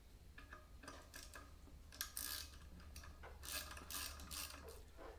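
Regular hand ratchet snugging the front brake caliper bolts on a Honda Africa Twin motorcycle, giving close, quiet clicking and rubbing bursts in short irregular runs over a low background hum.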